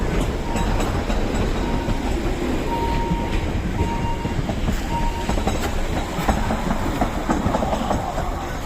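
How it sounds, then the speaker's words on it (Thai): A mountain railway train descending near Grindelwald in the Bernese Oberland rumbles steadily past close by, with a continuous rolling roar and faint rhythmic clatter of wheels on rails throughout. "อันนี้รถไฟขึ้นเขานะคะ"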